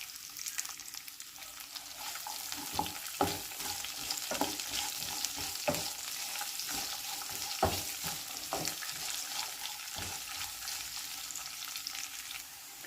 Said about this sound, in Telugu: ఉల్లిపాయ ముక్కలు, పచ్చిమిరపకాయ ముక్కలు, క్యారెట్, కరివేపాకు కూడా వేసుకొని ఫ్రై చేసుకోవాలి.